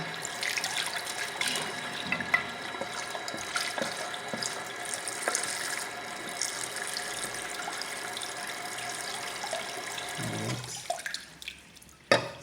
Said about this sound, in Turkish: Sıcak suyu bir yenileyelim.